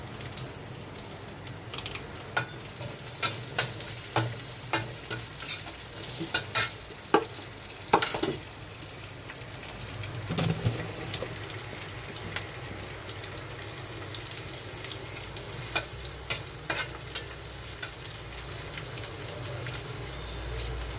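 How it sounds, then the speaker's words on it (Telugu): Onions frying in a pan with a constant sizzle, punctuated by repeated sharp metallic clinks of stirring that come in bursts, then ease off, with no talking. "ఉల్లిపాయలు వేగనిద్దాం."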